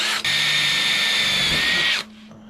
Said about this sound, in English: So I'm going to drill the corners so we can just cut up to them.